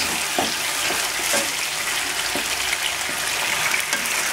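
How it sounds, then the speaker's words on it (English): Baby corn manchurian sauce bubbling in a pan, a steady close sizzling, spattering boil with small pops throughout, no talk. "Let the sauce boil for 2 to 3 minutes."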